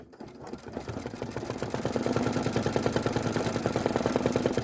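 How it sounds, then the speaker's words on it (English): An embroidery machine stitches a window outline down onto stabilizer, building to a fast, steady mechanical chatter with a rapid regular pulse, close and loud for several seconds. "So I'm just going to go ahead and let it stitch that window down."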